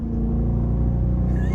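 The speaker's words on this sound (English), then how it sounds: "you just can't beat the sound of that Hemi" A Dodge Durango R/T with a Hemi V8 holds a loud, steady, deep engine rumble at high revs, with a rising whine creeping in near the end and no talking over it.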